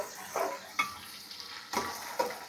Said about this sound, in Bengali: দেখেন পেঁয়াজটা কিন্তু ঠিকঠাক ভাজা হচ্ছে।